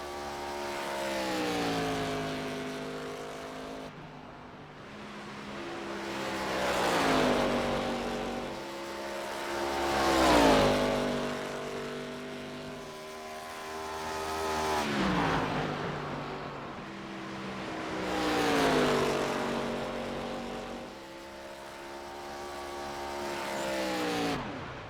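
An ARCA race car at Dover in iRacing, its engine revving hard in repeated waves, climbing in pitch through each gear then dropping at the shift, loud and steady with no talking.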